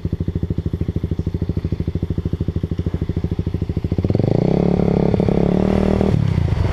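An enduro motorcycle engine idles with a fast, even, loud thumping beat, then is revved hard on the throttle into a sustained roaring rise before easing back, very close by.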